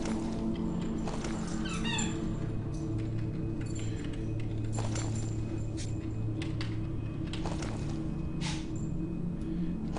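A beagle whimpers and lets out high, repeated yips at close range, with a steady low hum running underneath throughout.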